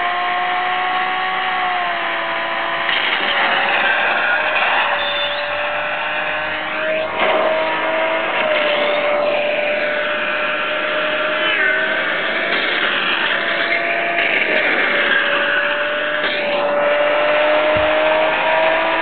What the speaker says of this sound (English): So I am using a Lamborghini Murcielago here.